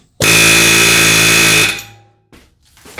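A bigger air hammer rattles hard against a stubborn axle on a 2007-2014 Honda Fit, one loud close burst of about a second and a half, then a few faint clunks.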